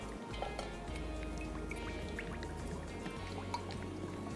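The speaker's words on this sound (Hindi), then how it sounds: "ऑयल डालेंगे" Cooking oil poured into a pan for frying Hyderabadi dahi baray, a steady faint liquid stream with small drips and trickles, no talking.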